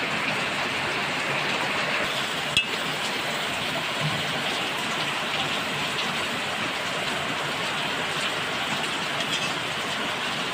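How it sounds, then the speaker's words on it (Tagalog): Steady rain hisses down continuously, a dense even patter close by with no pauses, one small knock briefly audible. "Ala, ulan. Tanggalang ulan yan."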